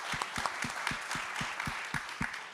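Steady applause from a conference audience for an entrepreneur at a mobility-innovation event, dense clapping with a few strong nearby claps in a regular beat over the crowd.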